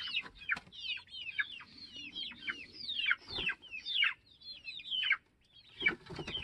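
Chickens cluck and squawk in a busy overlapping chorus as a backyard flock heads into the coop, close and continuous with short pauses.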